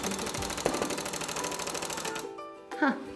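A handheld tufting gun fires yarn into stretched fabric with a fast, steady mechanical rattle, loud and close, which stops abruptly about two-thirds through, followed by a brief quiet and a short voice.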